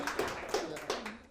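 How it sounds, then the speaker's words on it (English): A few sparse hand claps from a Python talk audience sound in quick succession, light and slightly echoey, like a small scattered group applauding briefly. "Yeah, you can clap. Please clap."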